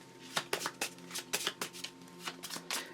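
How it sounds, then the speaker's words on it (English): A deck of game cards being shuffled by hand, cards slotted in at random with a series of quick, crisp riffling bursts close by in a quiet room. "I'm going to shuffle the deck now"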